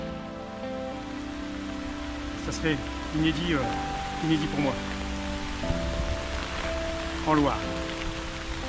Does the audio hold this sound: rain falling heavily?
yes